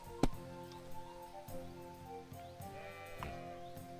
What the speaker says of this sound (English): These fucking sheep are driving me nuts.